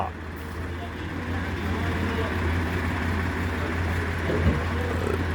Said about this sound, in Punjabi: ਸਵਰਾਜ ਟਰੈਕਟਰ ਆ ਰਿਹਾ ਸਵਰਾਜ ਬਾਲਣ ਵਾਲਾ